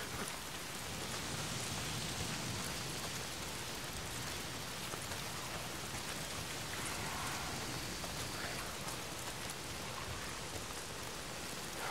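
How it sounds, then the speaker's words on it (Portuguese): Steady rainfall in the video game Days Gone, a dense continuous hiss of drops pattering on surfaces throughout, even and unbroken with no voices over it. "Tá sempre chovendo."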